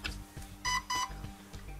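Two short electronic beeps in quick succession from an airsoft gun's Titan MOSFET on connecting a two-cell LiPo battery, clear and close, over a low steady hum.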